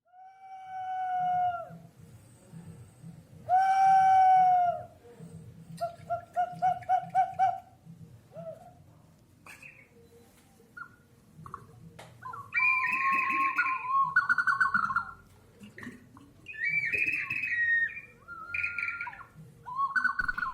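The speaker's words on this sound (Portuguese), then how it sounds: "Estes são os sons dos huacos silbadores, ou vasos assobiadores" Peruvian water whistling vessels sound a series of hollow, breathy whistles, some warbling and pulsing, others held and sliding, over a soft low burble.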